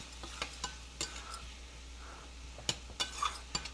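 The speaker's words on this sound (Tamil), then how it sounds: "ஸோ ஆனியன் வந்து நல்லா ஒயிட் ஆகிற வரைக்கும் நீங்கள் நல்லா வந்து ஃப்ரை பண்ணுங்கள்" Onions fry over high heat for a prawn curry, a faint steady sizzle broken by sharp clinks and scrapes of a spoon stirring against the pan, with no voices.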